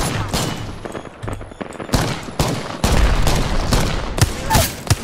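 Rapid bursts of gunfire from the battle royale game Apex Legends, several loud volleys and single shots in an uneven rhythm across the clip, close and dominant.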